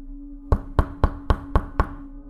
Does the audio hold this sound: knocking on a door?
yes